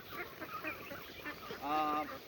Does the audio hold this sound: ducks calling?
yes